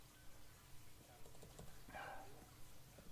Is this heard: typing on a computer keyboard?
yes